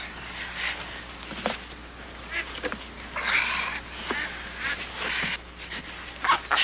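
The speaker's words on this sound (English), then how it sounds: "Yeah, ducks live here already." Park ducks on a pond quack repeatedly in loose, overlapping bursts at moderate distance, steady across the whole stretch with no voices.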